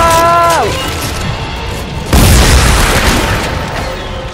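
A loud gun blast booms in the co-op sci-fi horror game Dead Space 3, cutting off a descending synthetic tone and followed by a heavy crashing roar that fades slowly, with no talk over it.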